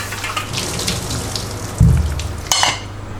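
Boiled potatoes being drained in a restaurant kitchen, with a steady rush and splash of hot water pouring off and two heavier gushes partway through, close and fairly loud with no talking.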